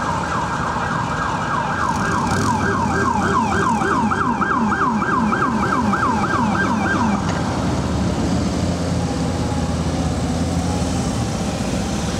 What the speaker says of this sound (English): there's an ambulance that is stuck trying to get through, using the sirens